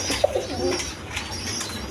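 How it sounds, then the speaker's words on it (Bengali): Rajgolla pigeons, a male and a female pair, give a short soft coo early on and then fall quiet, with a faint low hum and dry rustle behind them. "এখানে এক প্যার রাজগোল্লা কবুতর আছে"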